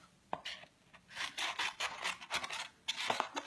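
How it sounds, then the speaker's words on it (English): Paper craft material for a handmade Christmas card being trimmed with scissors at a craft table, a series of soft, close snipping and rustling cuts in an irregular rhythm with no talking. "I'm just going to cut some of this off."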